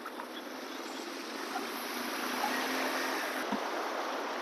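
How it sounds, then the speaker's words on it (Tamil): Floodwater from Cyclone Fengal rushes turbulently over a road near Tiruvannamalai, a steady broadband roar of moving water that swells slightly midway, with a faint thump near the end and no talking. "தண்ணீர் கொந்தளித்து செல்கின்ற காட்சி நீங்கள் பார்த்து கொண்டிருக்கிறீர்கள்."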